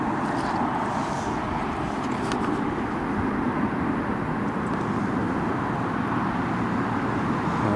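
A US Air Force Boeing C-17 Globemaster heavy military transport near an airport, a steady broadband roar of jet engines holding at a constant loud level throughout, no voices.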